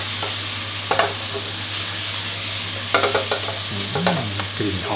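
Pork stir-fried over high heat sizzles loudly and constantly in a pan, with scraping spatula strokes and brief clanks of utensil on metal at irregular moments, no talking.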